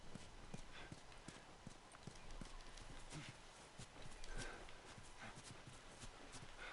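Horse hooves clip-clop at a steady walking pace in The Last of Us Remastered, a game scene, the close rhythmic clopping running throughout over a low ambient bed with a brief faint whinny-like tone.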